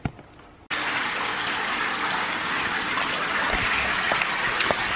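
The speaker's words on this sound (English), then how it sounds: "Just currently having a bath." Water gushes steadily from a tap into a bathtub, a loud close continuous rush that starts abruptly after a brief quiet moment and carries on unbroken.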